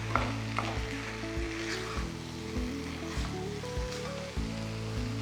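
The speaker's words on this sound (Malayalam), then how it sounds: "2-3 മിനിറ്റ് ഹൈ ഫ്ലെയിമിലൊന്ന് കുക്ക് ചെയ്യുക." Chicken coated in masala frying on a high flame for chicken mappas, a constant close sizzle with stirring and scraping strokes in the pan and a low rumbling background, no one talking.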